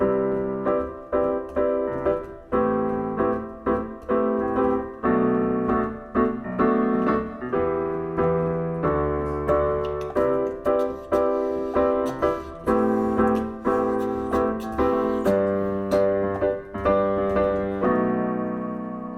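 A repeating piano chord pattern, the main loop of a song, plays steadily, each chord struck and decaying in a regular rhythm, loud and clear with no voices.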